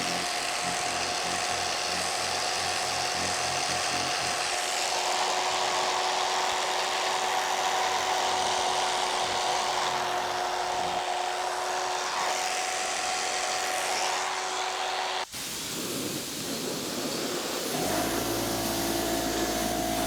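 A handheld power tool shaves down the foam of a Ski-Doo snowmobile seat. It whines loudly and steadily for about fifteen seconds, breaks off sharply, then restarts with a deeper, rougher tone.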